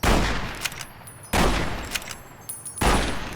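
Gunfire from the video game Fallout: New Vegas: three loud, sharp broadband blasts roughly 1.4 seconds apart, each followed by a decaying rumble and faint metallic clinks, with no speech.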